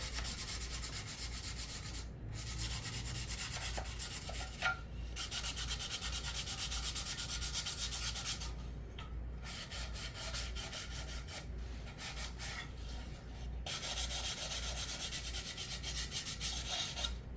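Steady, continuous rubbing of sandpaper smoothing the back of a hand-cut wooden piece, close and even, with a few brief pauses between strokes.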